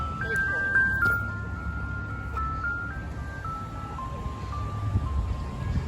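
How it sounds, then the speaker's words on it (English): A Wolo 345 ice cream truck plays its chiming jingle tune from a moderate distance near a railroad crossing on Thompson Lane, the melody carried over low traffic rumble, with people talking nearby. "I'm surprised this is a Wolo 345 ice cream truck that just came over here."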